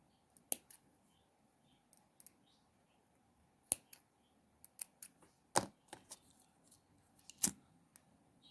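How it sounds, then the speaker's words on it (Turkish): Scissors snip off the excess cord on a flower-pattern macrame bracelet, giving about a dozen quiet, sharp, irregular cuts close by over a faint background, with no talking. "Kenarlarını şimdi kesip yakıyoruz."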